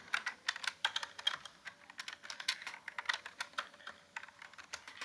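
Rapid, uneven clicking of a computer keyboard as code is typed in Android Studio, steady bursts of keystrokes close by with no talking.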